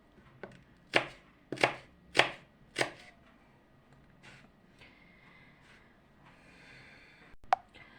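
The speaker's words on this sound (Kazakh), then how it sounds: "пиязымызды дәл қиярдікіндей қылып жұқалап тураймыз" A knife slicing onion thinly on a cutting board, four or five crisp chops in a slow, even rhythm, close and clear, then quiet room tone and a final sharp tap.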